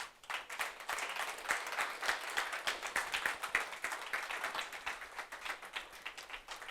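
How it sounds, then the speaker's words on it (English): Audience applause for a payroll outsourcing team, steady dense clapping from a crowd that holds throughout without fading, with no voices on top. "maybe you should just quickly stand up and get a big round of applause there."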